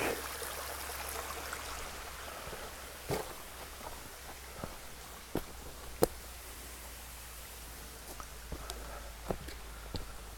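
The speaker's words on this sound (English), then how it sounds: "Nice little stone bridge over a little brook or creek." A small brook trickles steadily in the background, a soft continuous wash of water, with a few footsteps crunching nearby along the trail.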